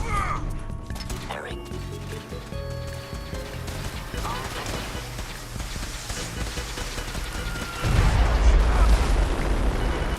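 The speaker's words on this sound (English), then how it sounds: "Then I have a close call when I nearly walk right into this flying gas thing that explodes" In Fallout 4, a floating gas creature explodes near the player: a sudden, loud, low-heavy burst late in the clip swells over a busy bed of game sounds and music.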